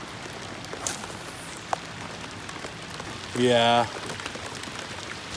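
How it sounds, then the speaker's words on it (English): Heavy rain drumming steadily outdoors at a high-water fishing spot, a constant hiss with a few close drips, interrupted midway by a short loud mechanical buzz and a brief spoken word. "This rain's getting pretty bad."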